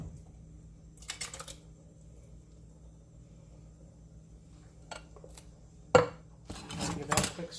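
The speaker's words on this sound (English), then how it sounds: "now we're going to put in a can of diced tomatoes" Diced tomatoes from a can go into a pot of low carb beef vegetable soup, with a few short metallic clinks and scrapes of can against pot in a quiet kitchen, the busiest clatter coming near the end.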